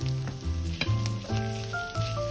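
Ground meat, onion and tomato paste sizzle in a pan for a meat piroshki filling. The frying hiss is continuous and close, with background music playing.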